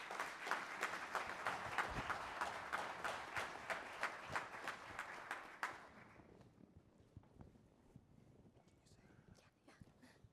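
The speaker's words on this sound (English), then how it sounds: "Please join me in a warm round of applause to welcome this morning's panel." Audience applause at a conference session welcoming a morning panel, a dense burst of clapping for about six seconds that then fades into quiet room noise with scattered claps.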